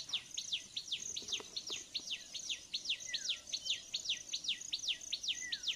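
A small tailor bird calls near a river, giving rapid repeated high chirps in a steady rhythmic series, moderately close, over a faint background of insects.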